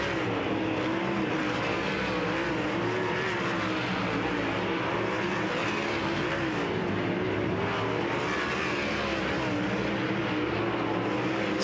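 Dirt race cars, High Limit sprint cars, roar around Tri-City Speedway on hot laps, a steady loud engine drone with rising and falling whine as they pass, continuous throughout with no speech.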